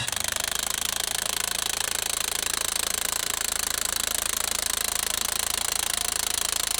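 An AGM scissor jack raises a Polaris Xpedition, giving a loud, continuous, rapid mechanical rattle that stays even throughout with no pauses.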